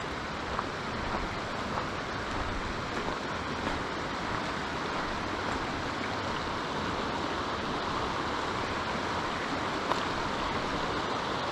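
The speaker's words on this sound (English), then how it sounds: "This is beautiful Elk Creek." Elk Creek flows steadily beside a campground near the Wilson River, a constant broad rush of moving water with no breaks and no voices.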